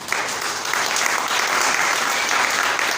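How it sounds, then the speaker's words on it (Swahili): A church congregation claps together during a Swahili and English sermon, dense steady applause filling the whole stretch with no pause and no talk over it. "Pigia Yesu makofi mazuri."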